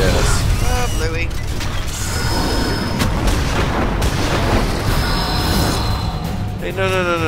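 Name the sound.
boss exploding in Castlevania: Lords of Shadow 2 video game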